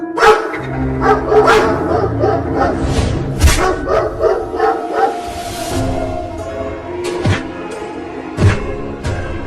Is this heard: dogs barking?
yes